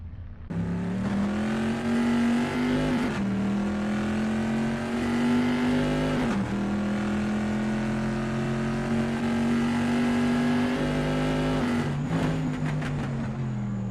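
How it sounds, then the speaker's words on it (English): A vintage pre-1973 Bizzarrini race car at the Imola circuit, its engine droning loud and steady at high revs with brief dips for gear changes, held up close throughout, no speech. "Darren O'Mara appears focused and prepared driving through Tosa"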